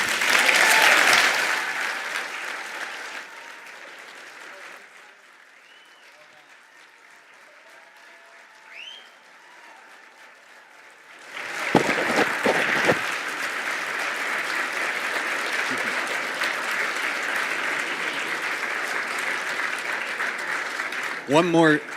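A gala audience at an ALS foundation fundraiser breaks into applause twice, a burst at the start that fades to quieter room noise, then a second long, loud wave of clapping.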